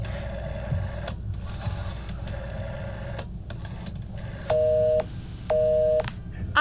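Two loud, steady beeps of a telephone busy signal, each about half a second long and heard near the end, set against faint background noise and clicks in a stage drama.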